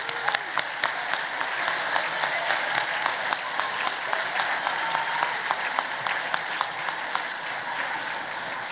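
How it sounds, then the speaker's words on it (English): A crowd claps steadily and loudly, a dense continuous round of applause sustained throughout. "let's give yourselves another round of applause"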